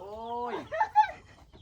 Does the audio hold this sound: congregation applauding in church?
no